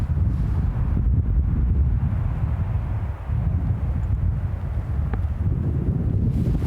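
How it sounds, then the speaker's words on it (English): Strong, steady wind gusts buffet the microphone high in a mountain basin of the Wind River Range during a backpacking trip, a loud continuous low roar with no talking. "Yeah, it is so windy."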